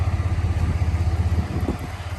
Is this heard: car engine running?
yes